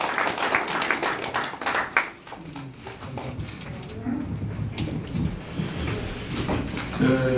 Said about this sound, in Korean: 네, 박수로 환영합니다